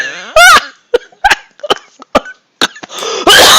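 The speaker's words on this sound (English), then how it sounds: "you made me cough." A loud, raspy cough opens, followed by a series of short throat clearings and small coughing gasps, ending in another harsh burst up close.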